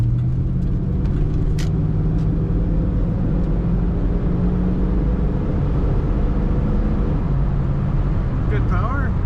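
An off-white 1989 Ford Mustang LX 5.0 convertible with an automatic transmission, speeding up along a road: a steady, loud low engine drone with road and wind noise that rises slightly as it gathers speed.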